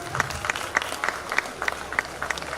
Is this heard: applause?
yes